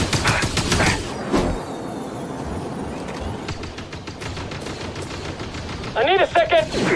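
Blaster fire in Star Wars Jedi Fallen Order, with clone troopers battling purge troopers, comes as repeated sharp zaps. A dense volley opens the stretch, scattered shots follow through the middle, and bright, warbling bolts close it. Distant shouting is mixed in.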